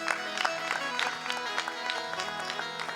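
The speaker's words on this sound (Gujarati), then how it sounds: "પરમ વંદનીય સંતો પધાર્યા હોય ત્યારે એમને એક વખત જોરદાર તાળીઓથી વધાવો." A Gujarati dayro audience at a murti pratishtha festival in Melbourne claps vigorously to welcome revered saints. The applause is dense and crackling, with a faint sustained musical tone underneath.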